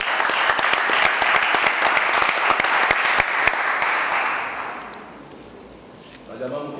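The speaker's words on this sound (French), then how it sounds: "On peut applaudir." An audience at a student introduction ceremony applauds, with sharp individual claps standing out from the steady crowd clapping for about four seconds before it fades out and a voice starts speaking.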